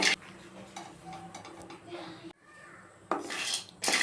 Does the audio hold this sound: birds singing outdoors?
no